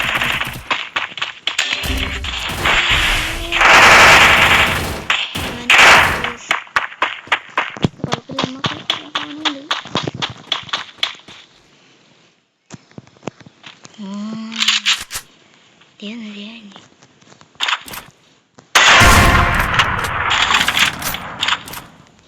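Bursts of gunfire from the Free Fire Max video game, rapid automatic volleys and single shots in loud clusters with pauses between, some synthetic game effects in the quieter middle stretch.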